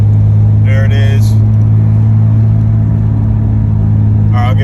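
A freshly started R32 Skyline GTR engine, just fitted with a new fuel pump, idles steadily and loud and close with a deep constant drone, with brief voices speaking over it.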